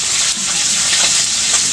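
Steady, dense sizzle and crackle of fish frying in hot oil, loud and close, continuous without pauses.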